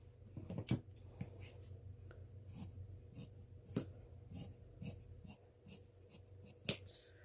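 Scissors cut through folded garment fabric along a pattern line, with a series of soft, crisp snips at an uneven pace, close and quiet with no talking.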